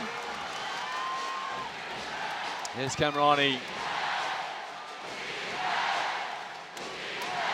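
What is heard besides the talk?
basketball arena crowd cheering, FIBA Asia Cup final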